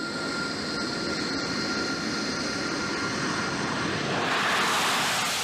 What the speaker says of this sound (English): the pilot proceeds to initiate the takeoff steps, which can be vertical or short